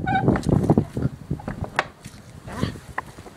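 Backyard hens clucking and squawking in a garden coop, a busy cluster of close, overlapping calls tapering into softer scattered clucks.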